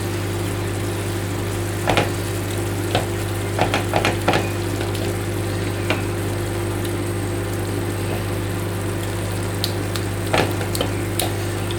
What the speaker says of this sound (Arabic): من بعد غادي نديرو في المرميطه قلت لكم طيب شويه باش ما يتهرسش فينا هذاك الحوت